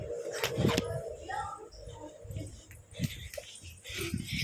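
Dog whimpering and yipping in short, uneven whines close by, mixed with people talking and scattered household noise.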